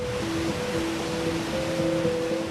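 Water pouring over the Toddbrook Reservoir spillway at Whaley Bridge with the reservoir at capacity after heavy storm rain, a constant rushing roar with faint tonal hums running through it.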